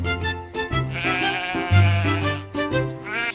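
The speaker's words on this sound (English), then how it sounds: "They bleated loud and wagged their tails." Sheep bleat loudly in a cartoon nursery-rhyme setting, giving several wavering, nasal calls in quick succession, close up and alone.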